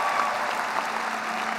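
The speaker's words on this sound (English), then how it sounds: "Give yourselves a round of applause." Audience at a USC commencement ceremony applauding the graduates: steady, dense clapping from a large crowd that fills the whole stretch at an even level, with no voices over it.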